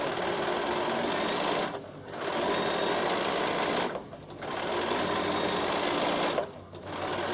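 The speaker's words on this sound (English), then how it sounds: "I should have probably put a slightly longer stitch length because I'm really top stitching" Sewing machine top stitching a fabric garment cover, a steady close mechanical whir running in three long bursts with short pauses between them, with no talking.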